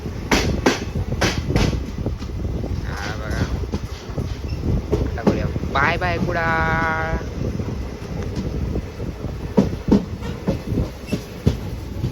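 The Tutari Express rolls along with a constant loud rumble and rattle of carriages, sharp clicks recurring over the track noise, while people talk nearby and a horn-like tonal blast rises briefly midway.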